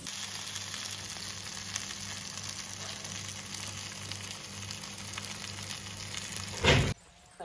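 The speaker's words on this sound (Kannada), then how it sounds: "ಮೂಲು ಬಂಗುಡೆ ಫ್ರೈ ಮಲ್ತ ಮುಲ್ಲೆ" Mackerel (bangude) fry hisses and crackles steadily in a hot pan with a low hum underneath, the sizzle cutting off abruptly near the end.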